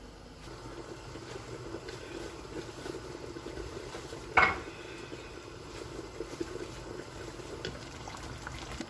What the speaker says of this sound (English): So I'm going to cover and allow it to cook for 5 minutes